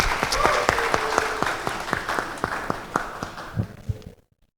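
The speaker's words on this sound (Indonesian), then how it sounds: "Kita beri tepuk tangan untuk mereka berdua." Wedding guests clapping for a newly blessed couple, Edwin and Ade, at a church ceremony: scattered, distinct hand claps with a rhythmic edge, fairly close, tapering off and stopping abruptly near the end.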